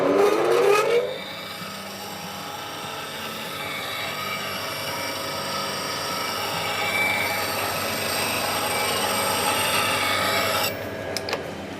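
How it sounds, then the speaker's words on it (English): A bench grinder runs steadily for several seconds as a shaving brush handle is worked against it, giving a continuous rasping, squealing grind that starts and stops abruptly. "I'm just going to give this a hit in the grinder again."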